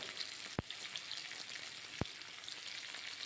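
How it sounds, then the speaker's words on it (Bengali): Boiled potatoes with onion and tomato frying in a pan, a faint even sizzle broken by two sharp spatula taps against the pan. "এবার নেড়ে চেড়ে মিশিয়ে নেব যাতে আলুর সাথে পেঁয়াজ টমেটোর সাথে ভালোভাবে মিশে যায়"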